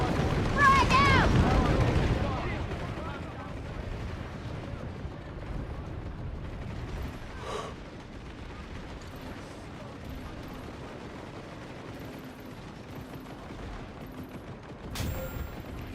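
A frag grenade goes off in the online shooter PlanetSide 2 as a loud burst at the start that quickly fades, followed by quieter gameplay noise with faint clicks and a sharp snap near the end.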